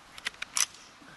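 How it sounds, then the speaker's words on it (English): Rifle bolts racked during dry-fire practice at a rifle marksmanship clinic, a few quick sharp metallic clicks and a short clatter, close, with no voices. "Okay, we want you to rack your bolts"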